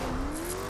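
Engine of a small car in the racing game The Crew on PS4, a steady droning hum holding one rising tone throughout, struggling to build speed before a jump.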